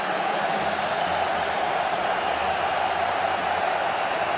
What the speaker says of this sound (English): Roma substitutes are trying to act as cheerleaders for their crowd. That's why there's a huge impetus of noise.